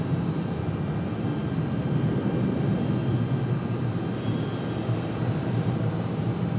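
An American Airlines Boeing 777 departs Raleigh Durham International, producing a loud, continuous jet engine roar that stays steady and close for several seconds, with no one speaking.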